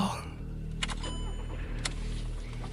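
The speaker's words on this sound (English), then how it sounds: "Stan started the engine again." A car engine starts with a brief crank and settles into a low steady idle, with a couple of faint clicks over a constant rumble.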